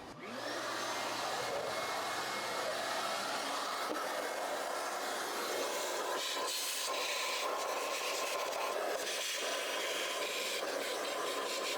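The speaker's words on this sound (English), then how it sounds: "We'll vacuum that out, that way we don't ruin our brand new air filter." A vacuum cleaner runs continuously while cleaning out the air filter housing of a Hyundai Elantra, a loud steady whooshing hiss that shifts in pitch as the nozzle moves, with no voices.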